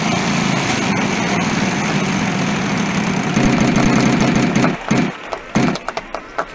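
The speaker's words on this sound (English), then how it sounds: "To spin the wheel, press and hold." Wheel of Fortune prize wheel spinning in the Nintendo Wii game, a steady whirring, clicking rush that runs loud for about five seconds, then breaks into a few separate ticks and bumps as it slows to a stop.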